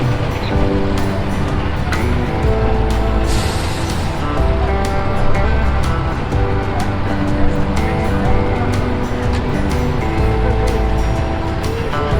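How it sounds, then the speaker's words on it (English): A lorry being driven into a vintage steam engine event, with a steady loud engine rumble and heavy low mechanical drone running throughout, as though the recorder stands close to the machinery, while voices chatter faintly underneath. "Looks like they're bringing a lorry in now as well."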